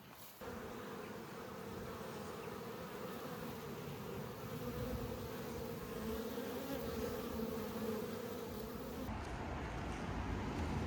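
Buckfast honey bees buzz around a small split hive taken from a colony that was trying to swarm, a close, steady, continuous drone with no voices over it.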